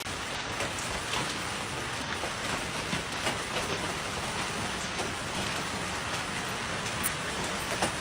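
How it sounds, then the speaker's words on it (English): A dense, steady pelting of hailstones drums hard on surfaces, with scattered sharper hits standing out in the constant roar and no voices. "they experienced a hailstorm they had never seen before"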